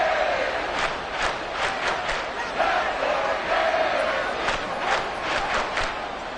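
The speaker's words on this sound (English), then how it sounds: "this crowd making it hard to hear" Loud stadium crowd roaring steadily in an American football video game between the Ravens and Dolphins, a dense continuous wash of cheering with rhythmic surges throughout.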